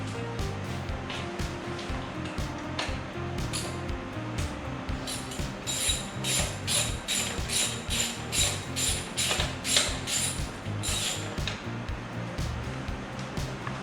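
A ratchet removes the seat bolts on a 2022 Honda Monkey, producing runs of quick, sharp clicking strokes up close over a low background hum. The clicks come in bursts that grow denser toward the middle.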